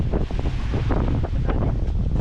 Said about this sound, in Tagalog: Isipon lang ang hangin dito.